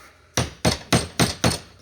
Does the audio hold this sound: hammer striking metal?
yes